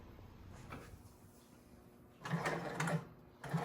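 An extra heavy duty SEWPRO 733L-30 long arm sewing machine with a 30-inch arm runs in short bursts of rapid mechanical stitching, loud and close, separated by quieter pauses.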